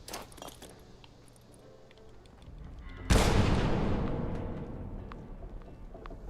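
Grenade explosion in Fallout 76, a sudden heavy blast midway with a long rumbling decay, preceded by quieter game ambience and faint clicks.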